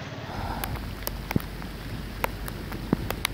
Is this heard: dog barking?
no